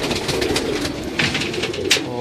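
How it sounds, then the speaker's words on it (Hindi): Grey Diamond slate pigeons with red eyes, kept by Ustad Yusuf Subhani of Lahore, coo softly and steadily at close range amid a busy rustling background. "ये बेसिकली स्लेटी कबूतर हैं, उस्ताद यूसुफ सुबानी ऑफ लाहौर के, इनका नाम उन्होंने ग्रे डायमंड रखा हुआ है।"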